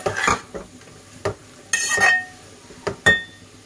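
A spoon clanks and scrapes against a pot while peas are mixed into vegetable vermicelli pulao, several distinct metallic knocks and scrapes separated by short quiet gaps.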